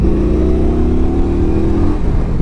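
A 2016 Indian Scout Sixty motorcycle engine accelerates with a loud, close, steady rumbling drone, its pitch shifting slightly near the end, with no talk.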